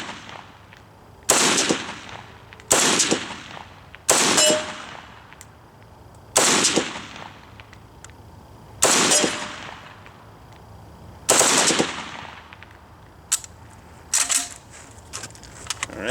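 An RPK-74 light machine gun fires a full magazine at a foggy outdoor range. Loud, sharp bursts of automatic fire repeat about every second or two, separated by short quiet gaps, with no voices.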